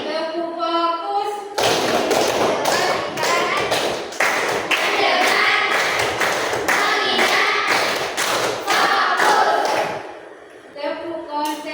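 A class of students claps a longer rhythmic pattern, a steady series of loud, close hand claps lasting several seconds, with a brief voice at the start and end.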